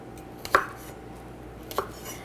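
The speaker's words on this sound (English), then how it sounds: "I'm going to cut the tips off now." A knife cutting the tips off five cleaned spring onions on a board in a home kitchen, two short crisp chops spaced about a second apart, close and fairly quiet.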